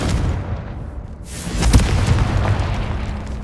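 A Confringo blast spell explodes in the video game Hogwarts Legacy as a deep, rumbling boom that swells and lingers for a few seconds, loud and close, with no talk over it.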